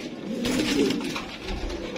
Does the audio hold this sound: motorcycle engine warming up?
no